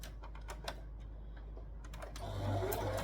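A sewing machine runs quietly while stitching the back section of a dress, its rapid needle ticking steady and faint, swelling into a louder hum toward the end.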